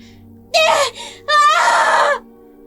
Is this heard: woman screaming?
yes